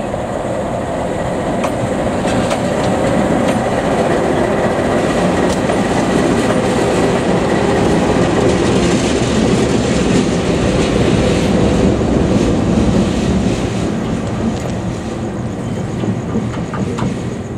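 Rare Indonesian BB301/BB304 diesel locomotive passing with its train, a loud, steady rumble and rolling of wheels on rails that holds for the whole stretch, no voices.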